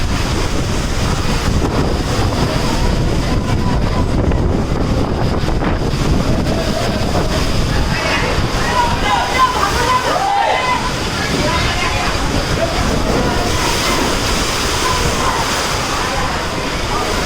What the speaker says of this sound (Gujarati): વરસાદ પડતો પવન આવી ગયો